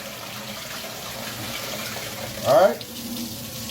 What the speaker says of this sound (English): I always show you guys how to properly wash and clean your rice off.